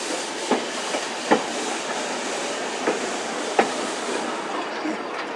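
Passenger cars roll along the rails behind Heisler steam locomotive number 6, a steady broadband rumble with a few sharp rail-joint clicks spaced irregularly, no talk over it.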